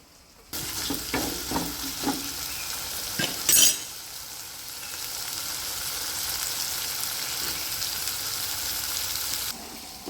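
Spiny gourd (kantola) sizzles as it is stirred into a thick gravy in a pan, with a few scraping stirs early on, then a steady, even frying hiss.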